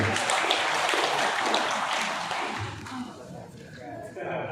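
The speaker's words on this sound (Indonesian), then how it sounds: "Tepuk tangan untuk Pak Hamdani." Applause from an audience at a regional religious affairs office gathering, a broad clapping wash that fades after a couple of seconds, with murmuring voices toward the end.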